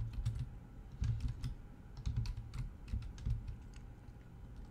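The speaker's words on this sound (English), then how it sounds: "Oh boy, keyboard stuck." Computer keyboard typing during a game session, with quick, irregular clacking keystrokes in bursts, close and fairly soft over a low background rumble.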